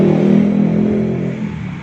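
A fuel-injected Yamaha Aerox 125 scooter with a smart key runs with a loud, close, steady engine hum that eases off slightly toward the end.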